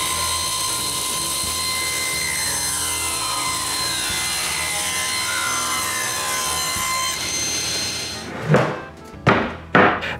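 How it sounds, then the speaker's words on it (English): Solid wood cut to width for the bottom of a bathroom vanity, a long steady whine of a power saw running through the board for about eight seconds, followed by several loud short bursts as the blade spins up and down nearby. "Now I can cut the bottom to the right width."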